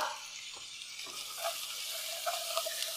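Spices and tomato puree hit hot oil for a British Indian restaurant-style lamb achari curry, giving a steady close sizzle with a few brief stirring scrapes and pops, no voices.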